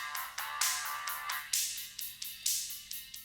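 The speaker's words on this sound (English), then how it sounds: "Hold music on a phone." A song is filtered to sound like thin phone hold music, tinny and bright with a repeating rhythmic pulse, heard alone.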